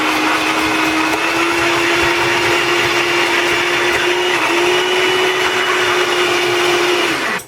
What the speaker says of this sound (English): We're using this fantastic Salad Express from Hamilton Beach so that I don't have to do all the slicing and dicing myself.